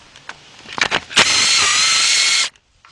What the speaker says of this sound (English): So I'm gonna take this bolt completely out.